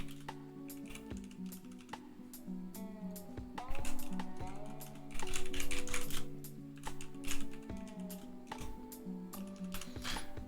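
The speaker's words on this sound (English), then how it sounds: "Sorry, quiet because I'm typing out the poll." Rapid bursts of keystrokes on a computer keyboard, close and steady with brief pauses, clattering busily alone without talk for about ten seconds.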